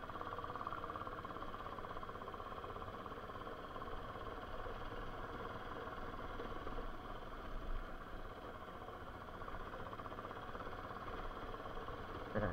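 A motorcycle engine drones steadily while riding, a mid-pitched hum with road rumble that holds throughout at moderate level, with no talking.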